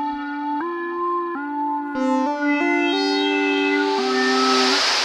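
Roland SH-2000 analog synthesizer wind patch: a steady stepped sequence of bright tones, then a rising hiss of noise swells in and grows louder over the last seconds, no talk.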